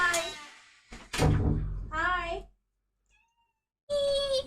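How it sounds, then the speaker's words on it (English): A pet cat named Mochi lets out several loud, drawn-out meows in separate bursts, with a short silent gap before the last cry, close to the microphone. "I can hear my cat screaming."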